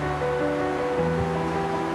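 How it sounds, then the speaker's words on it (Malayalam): Strong wind and rain outside, heard as a steady broadband rushing roar, constant and fairly loud, with some faint tonal hum underneath and no talking. "പുറത്ത് ഫുള്ള് കാറ്റും മഴയാണ്"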